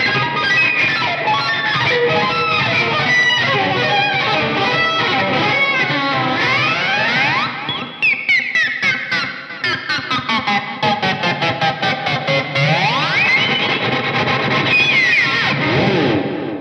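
A piece of metal rubbed up and down electric guitar strings through the bridge pickup makes swooping, sliding metallic whines and chattering scrapes, drenched in reverb and heavy effects, loud with no talking.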